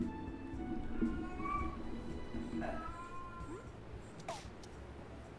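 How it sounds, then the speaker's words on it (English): A cat in a panic meows repeatedly in drawn-out, wavering cries, close and fairly loud, with a few sharper yowls near the end. "my cat's currently having a panic attack"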